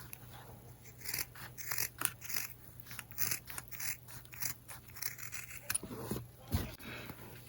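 Scissors snip through fabric while cutting out a face mask template, a run of close, quiet crisp cuts in an irregular rhythm with no one talking.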